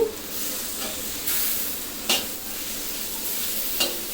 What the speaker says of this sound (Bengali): এখন এটাও আমি একটু কয়েক সেকেন্ড ভেজে তারপরে আমি এখানে দিয়ে দিব কাজু বাদাম